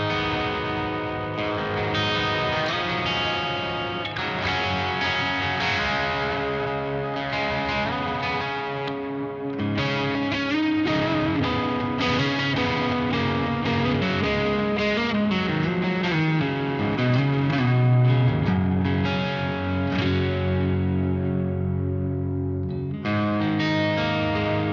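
Electric guitar played through a modified Marshall JCM 800 amp with a glassy, pushed-clean tone plus compression, delay and reverb. Chords and notes ring out continuously and fairly loud for about twenty-five seconds, with no talking.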